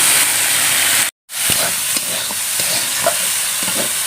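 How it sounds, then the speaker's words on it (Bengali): Potato and brinjal pieces being stirred with spices in a hot pan, a steady frying sizzle with soft scraping strokes, one brief dropout early, no talking. "মশলার সঙ্গে আলু বেগুন খুব ভালো করে আমি মিশিয়ে নিয়েছি।"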